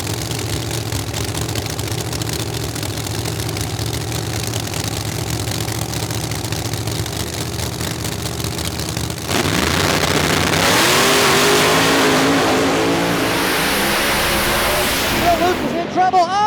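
A supercharged 1969 Camaro drag car idles loudly with a lumpy rumble at a drag strip, then suddenly roars into a hard launch, its engine screaming as it pulls away.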